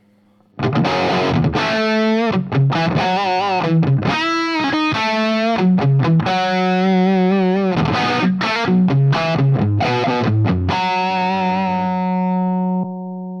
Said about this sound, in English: So I can have my Marshall overdrive sound.